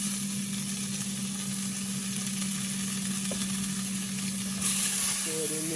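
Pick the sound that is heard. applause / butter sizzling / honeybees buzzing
butter sizzling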